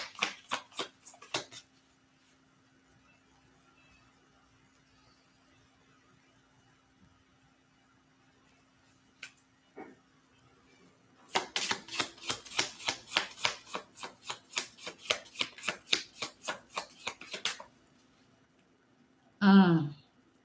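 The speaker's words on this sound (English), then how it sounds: "This showed itself too as I was shuffling" Tarot cards are shuffled in a rapid, rhythmic flutter of close crisp riffles that lasts about six seconds, with brief shuffling bursts earlier and a short vocal sound at the end.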